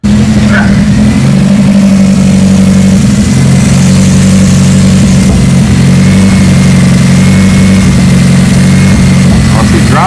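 A car's Nissan KA24DET turbocharged engine turns over and catches after a front main seal replacement, then revs and settles into a loud, rumbling idle close by, continuing steadily.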